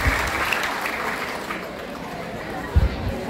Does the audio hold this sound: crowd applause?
yes